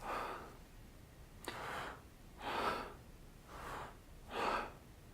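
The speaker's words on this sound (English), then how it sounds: "And then when we exhale," Slow, soft breaths during a belly breathing demonstration, several airy exhales spaced about a second apart, close to the microphone and quiet, with no talking over them.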